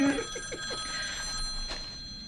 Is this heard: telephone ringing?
yes